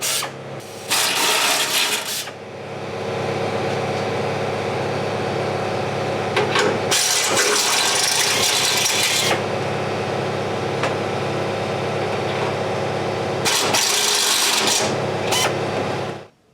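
Step drill biting through metal shock tower panels, a whirring ratcheting drill sound in bursts, with loud high-pitched cutting spells near the start, middle and end, close and fairly loud, no talk.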